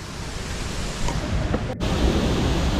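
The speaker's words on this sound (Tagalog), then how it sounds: "Welcome to Kawasan Falls!" Steady broadband rush of water at Kawasan Falls, Cebu, a constant roar filling the scene with a brief thump midway; no voices.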